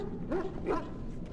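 A dog in the video game Dragon Age: Origins gives two short, close barks over a steady game background, with no talking.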